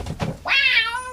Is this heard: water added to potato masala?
no